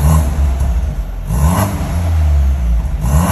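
A BMW 428i with a stage 1 downpipe and valved exhaust, valve closed for the stock sound, revs up loudly and close by, with two or three rising blips and steady idle between them.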